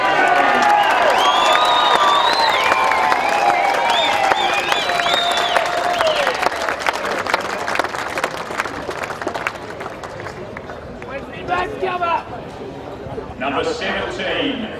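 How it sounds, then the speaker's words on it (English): A loud crowd cheers at a 2018 Bendigo league senior grand final in a single sustained roar of cheering, whooping and clapping that slowly thins into scattered applause and whistles, with a voice heard over it near the end. "Got a feeling our next one might get a loud cheer"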